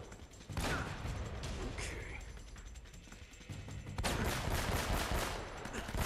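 Shotgun blasts ring out in a gunfight in the video game Uncharted: Drake's Fortune, loud sharp bursts over a steady background of game action and mechanical clatter.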